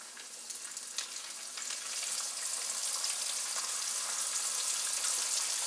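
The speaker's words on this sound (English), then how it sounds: "you're going to put it right into your oil in your fry pan" Walleye fish, tail left on, frying in hot oil in a fry pan, giving a steady bright sizzle and crackle that swells slightly after the first couple of seconds and continues unbroken with no talking.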